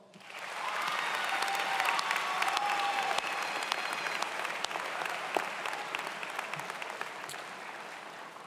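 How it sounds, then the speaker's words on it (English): At a high school graduation ceremony, a large crowd breaks into applause honoring families, swelling quickly into dense, sustained clapping with a few sharp individual claps and faint cheers before slowly thinning. "let's honor our families with a round of applause"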